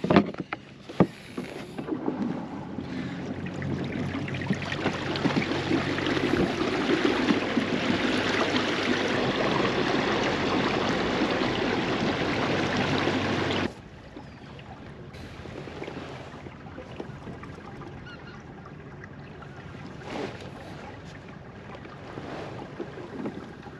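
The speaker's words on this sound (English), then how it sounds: "we got a 30-minute boat ride back to the ramp" Steady loud engine roar and rushing water from a moving boat on Thermalito Afterbay during a fishing tournament, with wind buffeting the microphone; the noise drops to a quieter hum partway through.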